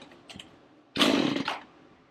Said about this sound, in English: crank on it till it fires a little bit